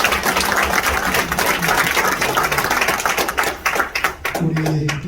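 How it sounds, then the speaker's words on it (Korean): Applause from an audience at a Korean political forum's founding ceremony, a dense clatter of clapping that thins toward the end as a voice begins speaking. "뜨거운 박수 보내주십시오"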